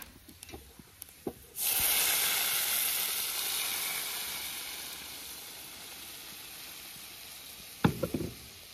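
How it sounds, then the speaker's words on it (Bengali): Dal poured into a hot oil tempering of dried chillies and bay leaves bursts into a loud, sudden sizzle that hisses steadily and slowly fades, with a few utensil knocks before it and a clatter at the end. "ডাল সম্বারা দিয়ে দিচ্ছি।"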